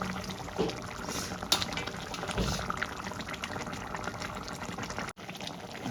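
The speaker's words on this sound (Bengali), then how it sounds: "ঝোলটা আমার ফুটে দেখো পুরো গা মাখা হয়ে গেছে" Rohu fish curry gravy simmers and bubbles in a pan, a soft steady bubbling and sizzling close by with a few brief clinks.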